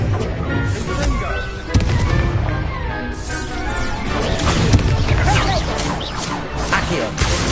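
Blasting spell explosions and magic combat effects in Hogwarts Legacy, with repeated booming crashes and impacts layered over a dense, loud game soundscape and music-like textures.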